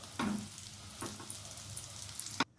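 Shami burger patties sizzle steadily in a hot pan, a continuous close hiss of frying with a few soft spatula taps as they are turned, ending abruptly; no talking.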